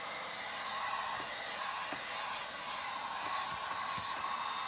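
A heat gun blows steadily while drying one side of a painted spring craft piece, a continuous close airy whoosh with faint clicks and no talking.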